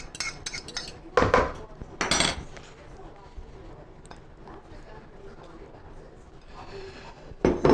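Turkey meatloaf ingredients are stirred in a bowl, with a few sharp clinks of utensil against dish among softer scraping and shuffling, moderately close.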